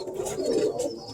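A Birmingham Roller pigeon, the main breeding hen, coos softly up close in a low, rolling murmur that swells and fades over about a second.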